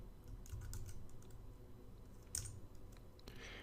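Computer keyboard keys are typed in a short burst to enter a Linux terminal command, soft close clicks followed by a louder keystroke near the end.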